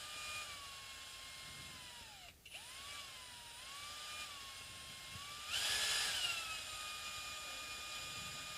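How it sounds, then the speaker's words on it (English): A small power tool whines at a steady pitch that dips and recovers as it works a Floyd Rose bridge on an Ibanez RG550 guitar, with a brief pause and a louder burst toward the end, close and quiet overall. "I no longer need the power tool"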